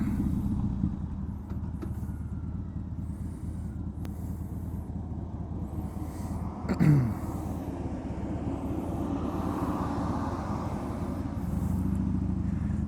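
A heavy truck rumbles past nearby in city traffic with low engine noise over steady road traffic, swelling briefly midway, with no talking.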